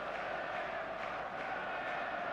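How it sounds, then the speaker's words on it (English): Steady stadium crowd buzz in the eFootball 2026 football game, a dense continuous murmur of many voices holding at an even level throughout with no distinct cheers or peaks. "There's a real expectant buzz in the stadium"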